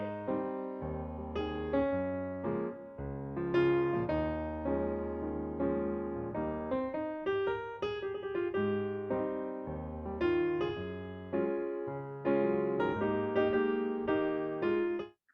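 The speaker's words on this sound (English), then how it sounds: "So quite a steady piece of music for our tendus today." Steady solo piano music for tendus in a ballet class plays at an even, moderate tempo with clear chords and melody, continuous and unaccompanied by voices.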